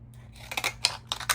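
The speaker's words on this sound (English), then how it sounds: "I think I'm gonna use my scissors." Scissors snip through card or paper while a master board is being cut, a few quick, crisp cutting sounds close by in a quiet room.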